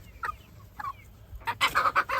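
Farmyard chickens being handled for hatching eggs the old-fashioned way, giving two short clucks followed by a louder burst of agitated squawking and flapping, close by with no talk.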